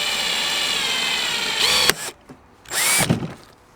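A rivet nut gun runs at slow speed in two short whirring bursts, each rising in pitch and stopping abruptly, close and clear over a quiet background.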